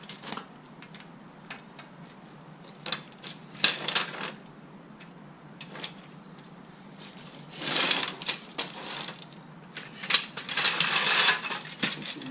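Metal poles of an Avian X A-Frame hunting blind are clipped together, giving close clinks, rattles and scraping clatter in scattered bursts. The sounds grow denser toward the end, and no one talks.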